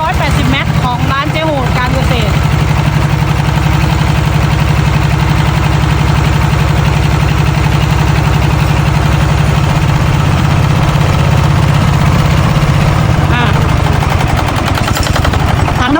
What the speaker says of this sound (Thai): สตาร์ทเครื่องเลยเลย ดูนะลูกค้า สตาร์ทแบบไหนดูนะ ร้อยแปดสิบแม็กนะคะ